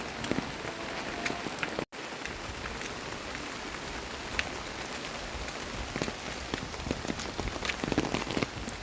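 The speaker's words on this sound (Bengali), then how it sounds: "কত দিন থেকে বৃষ্টি, এরকম বৃষ্টি হলে কি হয় বলেন" Steady rain falling on outdoor surfaces in a Bengali town street after days of continuous rain, a dense even patter of drops throughout with a few louder hits, no voices.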